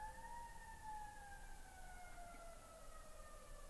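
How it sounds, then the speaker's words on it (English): Faint siren of an ambulance passing outside, a thin, steady wailing tone drifting slowly downward far in the distance beneath a constant hiss of room noise. "I just heard an ambulance, a siren."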